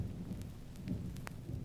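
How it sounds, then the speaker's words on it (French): A thunderstorm over the summit of Mount Sinai brings a low rumbling of thunder under soft rain with a few scattered drop ticks, faint and distant, with no voices. "un orage énorme enveloppa le sommet du Sinaï"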